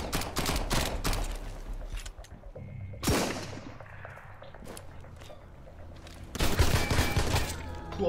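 Gunfire in the survival game Sunkenland comes in dense automatic bursts at the start and end, with a sharp single shot in between and quieter footsteps and clatter during the lull.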